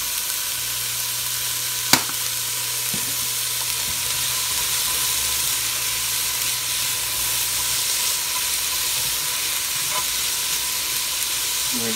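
Turkey chili ingredients, seasoned with salt and pepper, sizzle steadily in a pot, a constant bright frying hiss with a low hum beneath and one sharp clank near the start.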